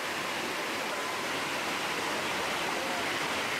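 The Devil's Throat waterfall roars as a steady, dense wall of rushing water, unbroken and loud throughout, with no voices.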